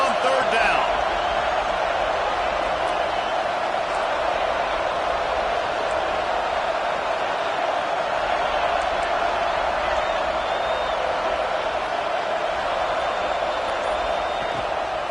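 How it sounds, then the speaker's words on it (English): A home crowd roars through a college football video game featuring the Pitt Panthers, a steady, loud stadium din with a commentator's voice under it. "Here comes this home crowd as the defense tries to get off the field on third down."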